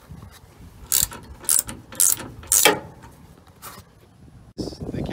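Hand ratchet tightening bolts while installing Rough Country side steps on a truck, four quick clicking bursts spaced about half a second apart, close by, with a short mechanical rustle afterward.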